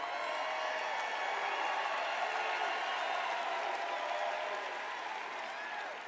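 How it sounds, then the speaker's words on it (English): Sustained applause from a large crowd at a political rally in Glendale, Arizona, a dense steady wash of clapping that stays loud throughout and eases slightly near the end. "I don't think I've ever introduced anybody that got applause like that."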